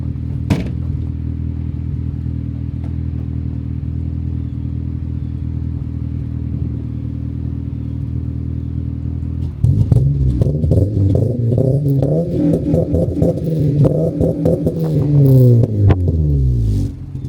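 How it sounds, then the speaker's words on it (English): Idling 9th-gen Honda Civic Si with a full race exhaust, a steady low drone that breaks into loud, rising and falling revs with rattling pops, close and alone. "This full race exhaust sounds killer."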